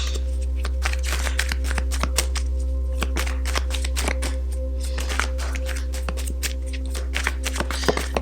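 Tarot cards being shuffled, a steady run of crisp riffling and snapping card clicks over a constant low background hum, with no talking.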